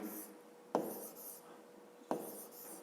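Numbers being written by hand on paper, faint pen scratching with two sharp taps as strokes start, quiet and close with no talk.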